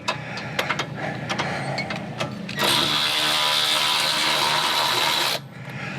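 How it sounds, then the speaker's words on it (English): Electric impact wrench driving bracket bolts on a Ford Super Duty during a dual steering stabilizer install, a few short clicks and bursts, then one loud steady whirring run of about three seconds, close by. "We're gonna use our electric wrench, make things a little bit easier."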